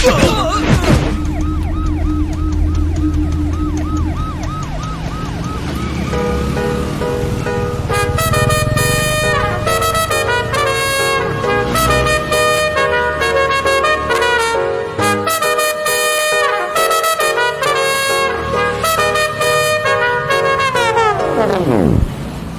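A loud wailing siren rises and falls steadily, layered with traffic noise and honking, continuous and close for the whole stretch.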